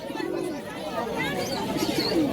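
Racer pigeons coo at a busy pigeon market, low warbling calls close by under a steady hum of crowd chatter and nearby voices.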